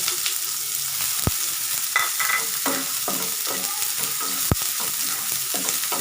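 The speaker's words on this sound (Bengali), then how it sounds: "কালো জিরা থেকে হালকা ফ্লেভার ছড়ালে আমি এখন এর মধ্যে দিয়ে দিব পেঁয়াজ কুচি" Chopped onion with black cumin sizzles loudly in hot oil and is stirred, giving a constant dense hiss with occasional scrapes and two sharp knocks against the pan, and no talking.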